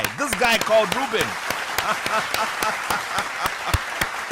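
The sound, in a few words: audience applause for a quiz contestant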